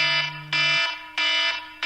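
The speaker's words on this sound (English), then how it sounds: "classic alarms." An iPhone's classic alarm tone plays as repeated loud, bright electronic bursts in a steady pulsing rhythm, close and alone with no talk.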